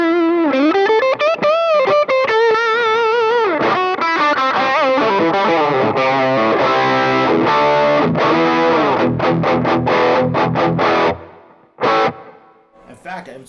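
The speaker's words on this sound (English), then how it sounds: "In fact, I would say it's almost closer to a distortion pedal in a way" An electric guitar plays through an overdrive pedal, an OD808-style unit pushed to distortion-like gain, in thick, saturated sustained notes and bends, then quick chopped chords that stop abruptly near the end.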